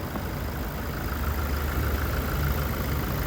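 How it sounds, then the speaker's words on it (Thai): Toyota Revo 2.4 pickup, a 2023 manual cab model, idling steadily with a smooth, even low engine hum that holds constant throughout, close by and alone. "เสียงเครื่องยนต์ดังปกตินะ ไม่มีผิดปกติใดทั้งสิ้นนะ เดินปกติเลย"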